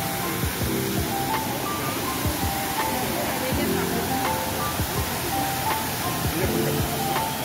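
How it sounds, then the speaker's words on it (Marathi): A waterfall in a city park pours into a small lake, making a steady, broad rushing roar that fills the whole clip, with a person talking over it. "हे बघा मस्त असा धबधबा पडतोय खाली, पाणी वाहत आहे खाली."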